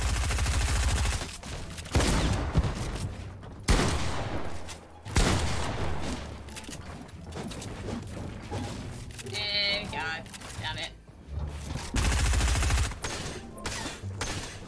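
Bursts of rapid gunfire in a Fortnite match, loud and repeated in clusters under excited players talking over voice chat.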